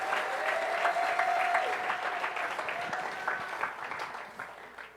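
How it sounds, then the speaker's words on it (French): A church congregation claps in sustained applause, loud at first and gradually thinning out toward the end. "Est-ce qu'on peut acclamer ces dieux-là?"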